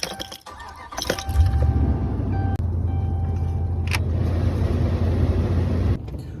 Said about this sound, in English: Let me finish loading my truck up